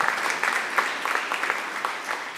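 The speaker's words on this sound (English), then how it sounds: "And then you guys all clap for me." A small audience gives a steady round of applause, with dense, even clapping filling the room at a moderate level.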